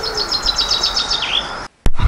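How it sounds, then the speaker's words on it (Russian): Birdsong in a spring garden where thrushes and tits nest: repeated bright chirping phrases and trills close by, fairly loud and steady, broken by a brief silence and a sharp click near the end. "Пока видео снимал, не замечал, как поют птицы."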